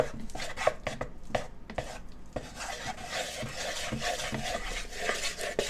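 Hamburger meat being stirred with flour to coat it evenly for Appalachian breakfast gravy, a steady scraping, rubbing clatter of utensil against pan with no talking.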